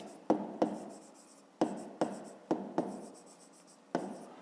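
Pen or pencil strokes on paper while working a fifth-grade math exercise, a series of quiet, close scratchy taps and short strokes in an irregular rhythm with pauses between them.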